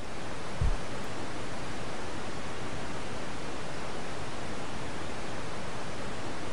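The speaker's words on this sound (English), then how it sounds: "White noise, the sound of silence." Steady hiss of white noise in the video game God's Basement, even and unchanging throughout, with one brief low thump near the start.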